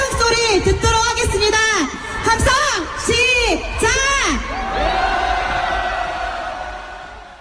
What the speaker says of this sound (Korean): 온 국토가 들썩이게 여러분의 함성 소리 듣도록 하겠습니다. 함성 시작!